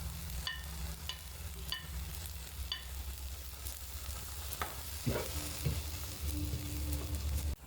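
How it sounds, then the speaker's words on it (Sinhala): An okra mixture with spices being stir-fried in a pan, a continuous gentle sizzle with intermittent scraping and clicking of the spoon, close up and quiet, growing a little busier toward the end. "මේ ටික එකතු කරගෙන මම දැන් මිශ්‍රණය හොඳින් කලවම් කරගන්නවා"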